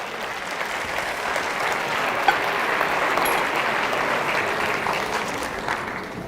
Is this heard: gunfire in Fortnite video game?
no